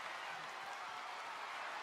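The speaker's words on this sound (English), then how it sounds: "This crowd is loud for this." A packed WWE Raw arena crowd roars in a steady, dense wash of cheering during a main-event match, continuous and unbroken for the whole stretch, with no clear individual voices.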